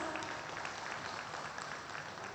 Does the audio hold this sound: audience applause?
yes